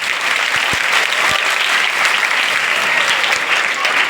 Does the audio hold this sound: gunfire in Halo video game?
no